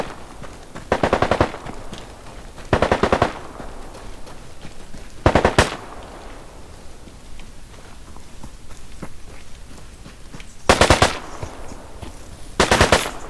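Gunfire in a video game: five loud, short automatic bursts spaced a few seconds apart over quiet background noise.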